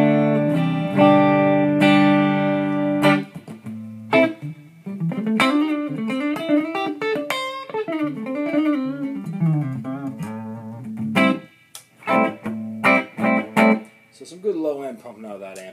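A 1976 Gibson Les Paul Deluxe, neck pickup, plays through a modified EHX Soul Food into a clean Fender Hot Rod Deluxe amp, strummed chords followed by a melodic run of picked single notes and bends.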